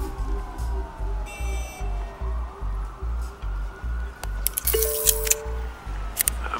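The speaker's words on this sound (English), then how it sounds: "There are quite a few police cars convening on your location." Police car sirens wail and sweep in Batman: The Telltale Series, layered over a steady thumping pulse, with a few sharp bright clanks and bursts near the end.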